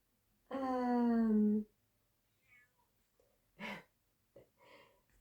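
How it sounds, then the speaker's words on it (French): A cat meows loudly behind a door, one long drawn-out meow followed by shorter, fainter meows and a few breathy sounds, in an otherwise quiet room. "J'ai mon chat qui miaule derrière la porte."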